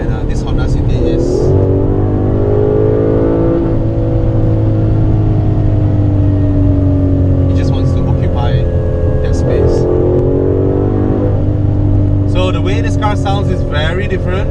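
A 2017 Aston Martin DB11 engine revs with a deep tone, rising and falling in loud repeated surges and settling into a steady drone between them. Someone talks over it.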